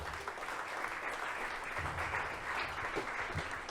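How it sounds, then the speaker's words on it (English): A corporate event audience claps for the LPs, a fairly quiet, even wash of applause from a moderate distance that holds steady throughout. "Round of applause, please,"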